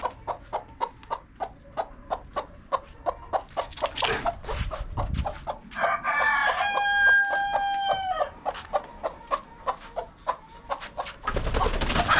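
A hen being set in a nest box to sit on eggs clucks in a steady series of sharp, evenly spaced calls, breaking into a longer drawn-out call midway before the rhythmic clucking resumes nearby.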